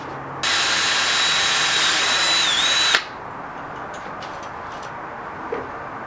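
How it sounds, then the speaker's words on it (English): A power drill runs at a high, steady whine for about two and a half seconds while boring a hole in a go-kart throttle part, then stops abruptly, leaving faint clicks and handling sounds. "Let's drill another one."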